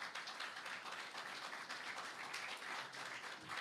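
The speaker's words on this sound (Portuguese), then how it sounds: "Aplauda o Senhor Jesus por causa disso." A church congregation applauds during a sermon, a dense, steady wash of clapping that holds evenly throughout, fairly faint and distant, with no voice rising above it.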